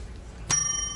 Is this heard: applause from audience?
no